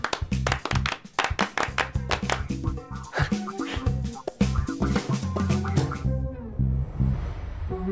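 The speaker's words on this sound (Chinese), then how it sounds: "鼓掌。" Applause from a small group at an office celebration, a run of sharp, uneven hand claps over background music that thin out and stop near the end.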